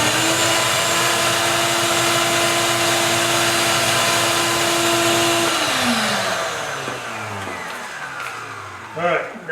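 A Hercules 12 gallon dust extractor running with a loud, steady motor whine and airy roar, which drops in pitch and winds down partway through before a brief clatter.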